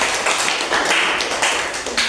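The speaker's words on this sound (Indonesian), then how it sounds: "Kita berikan dulu tepuk tangan." Pupils in a primary school classroom clap for a student group, a dense, fairly close patter of hand claps that holds steady for about two seconds with no talk over it.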